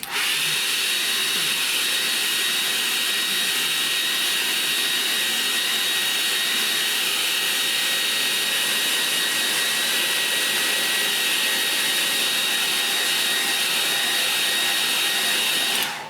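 A hair dryer blows on a freshly worked painting of trees by a stream, giving a loud, continuous close whoosh that holds steady from start to end with no talk.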